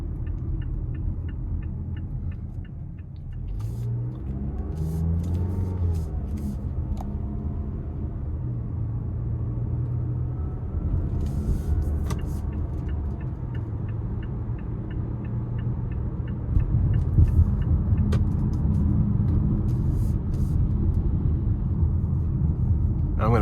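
2025 Mazda CX-5 Carbon Edition naturally aspirated four-cylinder engine under throttle, a low steady hum and rumble rising in tone from inside the cabin, mostly under ongoing talk.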